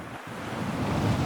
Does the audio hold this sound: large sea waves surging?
yes